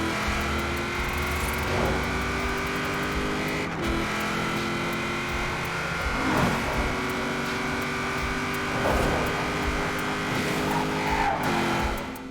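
A racing car engine in the video game Forza Horizon 4 drones at high revs, with tires screeching through corners and gear shifts interrupting the steady, loud roar.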